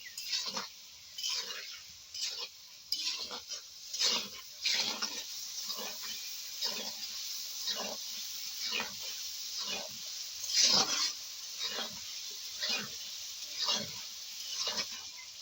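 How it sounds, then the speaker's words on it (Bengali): Shing catfish with green chillies stirred and sautéed in a hot pan for a gourd curry, with repeated scraping strokes and steady sizzling close by, no talk. "এই যে মাছ কটা দিয়ে দিলাম তারপরে কাঁচামরিচ দিয়ে দিলাম এই এখন ভালো করে কষাই নিব"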